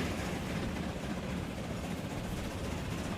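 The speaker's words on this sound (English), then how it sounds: "You're an impressive looking locomotive" A locomotive runs in the video game Transport Fever 2, a steady, dense low rumble with faint rail clatter that holds at an even level throughout, close and continuous with no voices.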